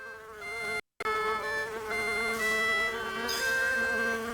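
Bees buzzing in the Moominvalley video game, a steady droning hum with wavering pitch that holds throughout, briefly cut by a short silent gap near the start, with no talking.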